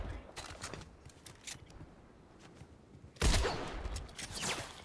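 Gunfire in the Fortnite video game: a quick run of faint shots early on, then a louder burst of fire near the end, with players talking over the game audio.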